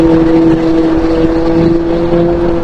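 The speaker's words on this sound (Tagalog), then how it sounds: "Pag throttle mo, mabilis yung throttle response niya." A motorbike engine with a freshly repaired rectifier runs loud and close under throttle, a steady droning hum with a strong tonal buzz holding even throughout, no talk.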